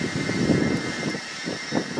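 The diesel engine of a Saab 9-3 TiD churns under the starter with a battery charger set to engine-start mode. Rhythmic, labored cranking pulses repeat about every half second over a steady whine, close and fairly loud, without catching.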